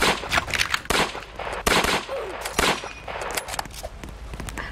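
Gunfire in the Roblox game Juno Beach rings out as rapid bursts of shots and metallic clangs that keep coming, with no talk over them.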